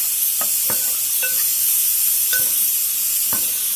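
Brinjal pieces frying in oil with two spoons of chili powder, a loud steady hiss of hot oil with several sharp clinks and scrapes from stirring, close up and without talk.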